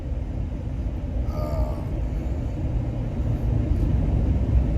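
A 2023 Ford F-150 Lariat pickup truck accelerating on the road, heard from inside as a steady low rumble of engine and road noise that builds slightly, with no talking.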